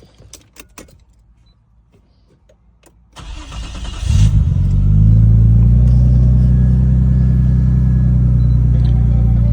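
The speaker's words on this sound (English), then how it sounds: "I'm going to back the vehicle off the ramps and measure it on a level surface." A Nissan Stagea starts up after a few keys jangle and light clicks, then its engine settles into a loud, steady mid-pitched idle rumble as it backs off ramps, with no talk.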